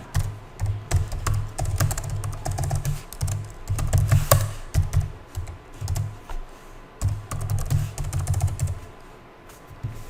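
Fast typing on a computer keyboard, a steady run of close, crisp key clicks with short pauses and bursts, heard alone without talk.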